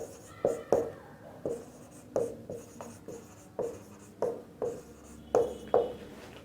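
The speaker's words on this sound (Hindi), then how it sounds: "चलिए, तो इसकी डेफिनेशन लिख रहा हूं" Handwriting of a physics definition during a class lesson, with a series of short scratching pen or chalk strokes in an uneven rhythm, close and clear with no voices over it.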